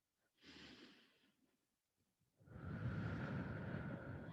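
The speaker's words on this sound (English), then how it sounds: "Breathe in deeply." Deep breathing during a side-stretching exercise: a soft, airy inhale followed after a pause by a longer, louder exhale, close and alone with no talking.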